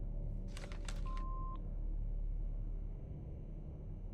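In the Autopsy Simulator game, a phone dials out with a quick burst of five or six bright dialing tones and a short steady beep, all over a constant low rumbling hum that continues afterwards.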